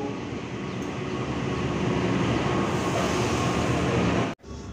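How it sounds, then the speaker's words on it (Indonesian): Cargo train at Kroya railway station in Cilacap, its steady loud rumble and wheel noise rolling on continuously before cutting off abruptly near the end. "itu juga ada KA Kargo yang baru datang di stasiun Kroya"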